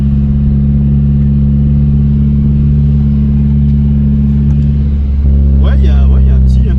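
A Mazda MX-5 engine drones loud and steady from inside the car while driving, a constant low hum with no pauses. Near the end, people can be heard talking over it.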